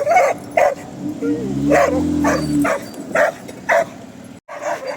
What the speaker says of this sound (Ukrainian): та собака дебільна, її застрелить треба